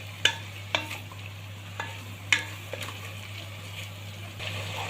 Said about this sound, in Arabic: اللحمه كده تاخد تشويحه مع الثوم والبصل والفلفل